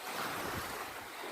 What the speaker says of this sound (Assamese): এয়া চাওকচোন পানীয়ে কেনেকুৱা একেবাৰে ঢৌ